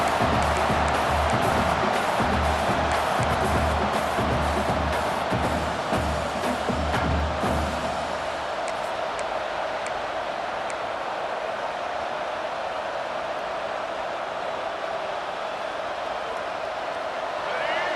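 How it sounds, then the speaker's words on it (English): In the College Football 26 video game, a stadium crowd roars loudly at first under an excited commentator, then drops after a few seconds to a softer, steady crowd wash. "The roar of the crowd trying to fuel this defense to keep them pinned in their own end."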